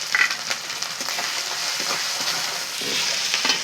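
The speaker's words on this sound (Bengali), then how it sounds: "সবগুলো একসঙ্গে ভালো করে কষিয়ে নেব।" Garlic paste, ginger paste and ground spices sizzle steadily as they sauté in hot oil, a close, continuous frying hiss with scattered stirring scrapes.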